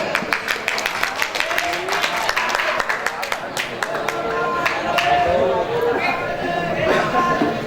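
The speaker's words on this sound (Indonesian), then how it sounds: "Bagus, tepuk tangan." Students clapping at a school celebration of the Prophet's birthday, a steady crowd applause of many hands with background chatter and voices mixed in throughout.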